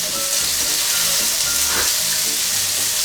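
Sausage and softened onions fry loudly in a pan, giving a close, continuous hiss and sizzle throughout.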